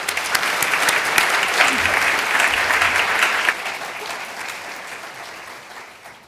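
An evening talk audience breaks into warm, sustained applause welcoming the guests, dense and steady before tapering off toward the end.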